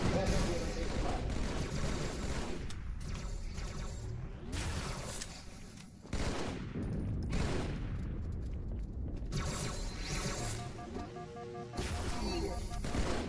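Sustained automatic weapon fire in Halo 2 on Legendary difficulty, a dense continuous rattle running across the whole stretch with short breaks, mixed with game effects and an explosion-like crash near the middle.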